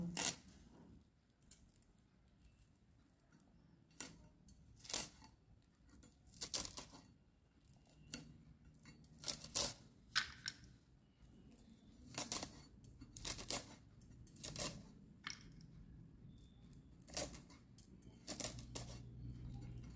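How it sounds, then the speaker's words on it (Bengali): Brahmi greens (water hyssop leaves) are cut in a quiet kitchen, heard as a series of crisp, close snips and chops spaced irregularly over a low background hush. "এবার আমি ব্রাহ্মী শাকগুলো কেটে নেব।"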